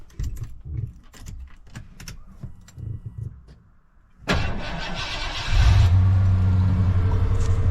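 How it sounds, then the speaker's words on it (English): A 1991 Ford Bronco truck engine catches and then runs, a loud broadband rumble that swells into a steady, heavier idle after some quieter clicking and fumbling sounds before the start. "This truck runs too well."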